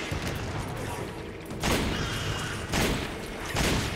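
Heavy gunshots in Resident Evil 5 co-op combat, three loud blasts spaced about a second apart over a dense, noisy backdrop of game sounds.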